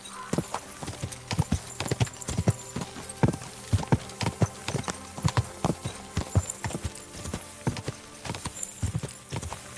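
Rapid, crisp hoof clip-clops of a horse trotting in Kingdom Come: Deliverance 2, a quick uneven rhythm of sharp knocks, close and clear with no talking.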